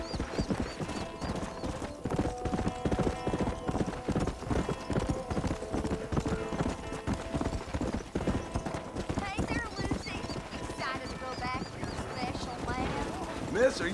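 Horse hooves clip-clop steadily in the Western video game Red Dead Redemption, a continuous rhythmic trot under ongoing conversation between characters, with a faint whinny near the end.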